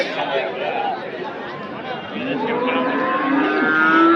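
At the Anthiyur cattle market, a cow moos in a rising, drawn-out call that sits under close, busy Tamil chatter and crowd noise.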